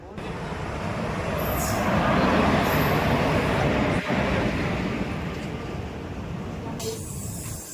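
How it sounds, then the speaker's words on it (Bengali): A train pulls into a railway station platform near Howrah, a broad, steady rumble that swells to a peak midway and then eases, with faint station ambience and a brief high squeal toward the end. "তো বন্ধু আমাদের ট্রেন চলে এসছে"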